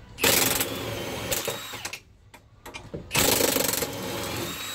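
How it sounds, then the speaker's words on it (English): Loud bursts of a power tool, likely an impact wrench, removing bolts from the AWD driveline of a donor Honda CR-V, in two long runs separated by a quieter gap with clanks. "Ripping those bolts."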